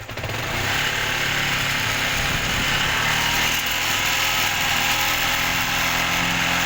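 A Yamaha R15 motorcycle engine held at a steady high-pitched revving drone, loud and close, continuous with no breaks.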